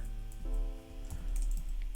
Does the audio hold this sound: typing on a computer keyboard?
yes